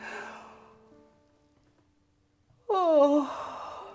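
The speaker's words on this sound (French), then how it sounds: "ce que je vous propose, ça va être de bâiller" A woman demonstrates a yawn during an eye-yoga exercise for office workers: a voiced tone fading into quiet, then a sudden drawn-out, sighing yawn with a falling pitch, close and clear.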